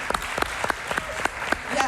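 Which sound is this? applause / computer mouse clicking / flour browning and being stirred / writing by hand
applause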